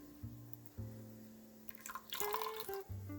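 Apple cider vinegar poured into a pot of collards with bacon and bone broth, a faint, close trickle and dribble of liquid lasting a couple of seconds in a quiet kitchen.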